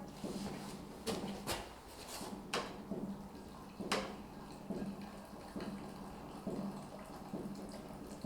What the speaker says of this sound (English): It's where the hot water is poured on the herb and is then covered